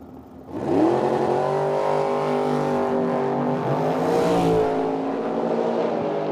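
A dragster powered by a 451 cubic inch big block Mopar engine roars down the drag strip at full throttle, a loud, sustained engine howl rising in pitch with no talk over it.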